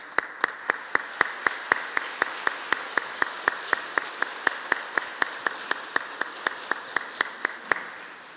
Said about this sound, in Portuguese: vamos saudar com palmas